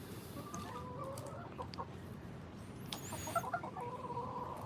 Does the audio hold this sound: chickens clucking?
yes